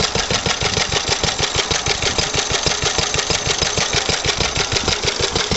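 A Lister D diesel engine runs, driving a pump: a fast, even, loud putter of single-cylinder firing pulses, close and alone.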